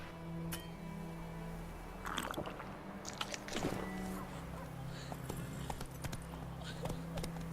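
Hooves of Roach, Geralt's horse in The Witcher 3, clip-clopping at a walk: faint, irregular thuds over a low ambient bed of game background sound.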